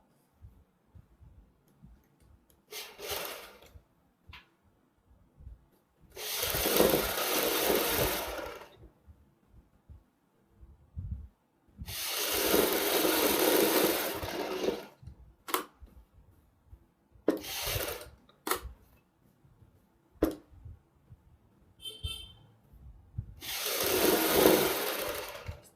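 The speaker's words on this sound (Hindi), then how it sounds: "तो मैं इसके ऊपर एक पैर की सिलाई लगा लेता हूँ" A sewing machine runs in several separate bursts, stitching a strip along a kurti neckline. Each run lasts a few seconds, close and clear, with quiet pauses and faint handling sounds between them.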